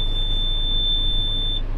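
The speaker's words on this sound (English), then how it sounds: "that's just John Deere's beeping" A John Deere tractor's warning beeper sounds as a steady, high, piercing tone lasting well over a second, close and prominent over a low engine rumble, with no talk.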